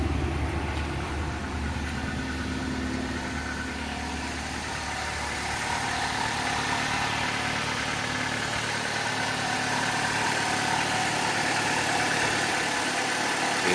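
A 2010 Ford Escape XLS FWD idles steadily for several seconds, a constant mid-pitched engine hum with faint vibration, close by and unbroken, with no one speaking.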